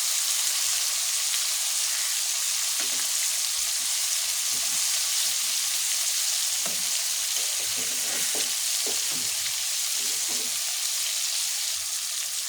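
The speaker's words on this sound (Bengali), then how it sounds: "রান্নার জন্য মাছটা এরকম করে ভেজে নিলাম।" River fish fries in hot oil in a pan, giving a loud, continuous sizzle with scattered crackles and pops throughout. No one speaks.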